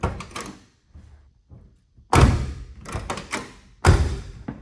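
A 1971 Oldsmobile Cutlass 442 W-30's door shuts with a solid thunk, followed by two more heavy door closings, close by with brief quiet between them.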